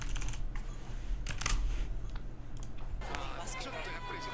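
Soft, irregular key clatter from a computer with a Japanese keyboard, close and fairly quiet, tapping continuously against a faint background murmur with no talking.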